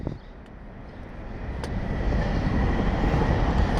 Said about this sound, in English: this train in the background probably trying to tell me something